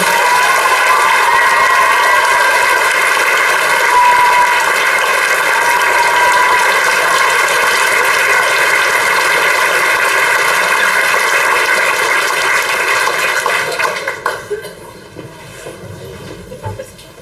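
A Christmas concert audience gives sustained applause, a dense wash of clapping that runs for about fourteen seconds before quickly dying away.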